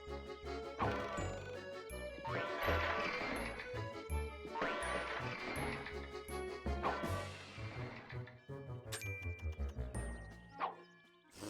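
Statue smashing in the Looney Tunes Back In Action video game, a run of crashing breaks and clattering pieces with bright ringing, echoing tones over game music.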